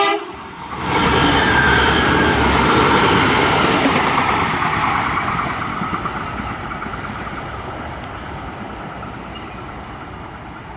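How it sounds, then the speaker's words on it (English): The SP33 Canberra Explorer train rolls past platform 2 at Bargo station, opening with a loud rumbling approach and a horn toot, then a long steady clatter of wagons that slowly fades as it moves away. "We should have SP33, the Canberra Explorer, walking past platform number 2"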